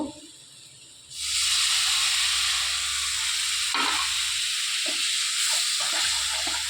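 Fish stock from boiling chitol fish is poured into frying masala in a pan, setting off a sudden loud sizzle and hiss that holds steady with a few soft stirring knocks beneath.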